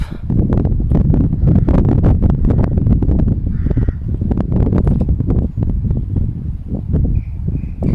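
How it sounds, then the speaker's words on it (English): Wind roars steadily and loudly across the microphone outdoors at a medieval Cistercian abbey ruin, with scattered crow caws and rustling breaking through the constant gusty noise. "it's going to be quite windy here now"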